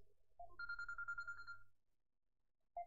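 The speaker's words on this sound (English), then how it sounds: "that's my alarm at 3:50" A phone alarm rings in a short pulsing burst of bright electronic tones for about a second, then falls quiet before another brief tone starts.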